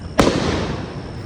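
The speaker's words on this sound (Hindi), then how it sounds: "चलो फिर पटाखे बजाना चालू करो" A Diwali firecracker bursts with a sharp loud crack, followed by a lingering crackling rumble of more fireworks in the background.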